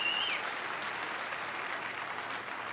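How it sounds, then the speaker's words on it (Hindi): Steady applause from an audience at a direct-selling motivational event, a continuous wash of many hands clapping, fairly distant and soft, without any voices over it. "एक जोरदार तालियां"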